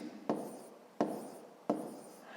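Numbers written by hand with a pen on paper during a fifth-grade subtraction exercise: three distinct, faint scratchy strokes spaced evenly in a quiet room, no voice.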